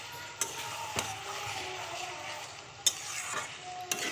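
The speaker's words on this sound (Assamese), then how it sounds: "এতিয়া ভালকৈ মছলাখিনি ভজা কৰিব লাগিব" Spice paste frying in a pan while being stirred, a soft continuous sizzle broken by a few sharp scrapes and knocks of the spoon against the pan.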